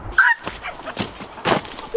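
Several harsh, squawking guinea fowl calls come in short bursts at close range, separated by brief gaps.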